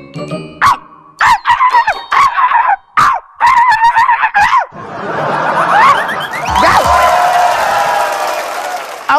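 Performers on a comedy stage imitate dogs with a run of sharp, barking yelps, followed by a swell of loud audience laughter and crowd noise.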